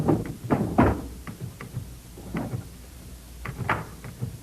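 A filing cabinet drawer opening in an office at a tower station, a series of close wooden and metal knocks, slides and thuds in an uneven rhythm, with no talk.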